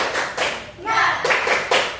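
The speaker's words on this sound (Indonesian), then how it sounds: "Tepuk semangat." A class performs the rhythmic 'tepuk semangat' spirit clap, with sharp bursts of group clapping separated by brief shouted voices, close and lively.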